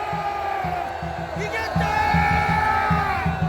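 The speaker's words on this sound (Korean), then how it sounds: "여러분 자축의 함성을 한번 보내주시기 바랍니다" A large outdoor political rally crowd cheers, whoops and shouts in celebration, a dense roar of many voices that swells louder partway through.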